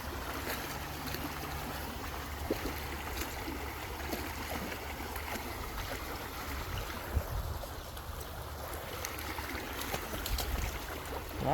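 Water flows in a stream at the Alafia River Corridor Nature Preserve, a steady, even wash of rushing and trickling sound throughout, with no voices.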